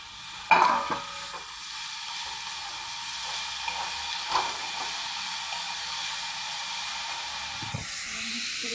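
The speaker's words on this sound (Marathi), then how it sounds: "फ्राय केलेले बटाटा टाकले. आता हा पालक टाकूया." Spinach is added to fried potatoes in a pan for aloo palak bhaji, giving a soft, continuous sizzle and hiss. A sharp clatter of the ingredients dropping in comes near the start, with occasional light stirring scrapes after it.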